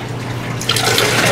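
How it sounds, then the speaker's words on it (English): Water poured into a wooden trough at an old silver-mine attraction in Calico Ghost Town, a splashing, rushing flow that starts partway in and grows louder and steadier over a low hum. "I'm going to pour water in the trough."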